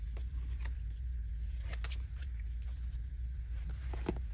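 Scissors snip through glossy magazine paper in a few sharp, close cuts scattered over a steady low hum, with no voices.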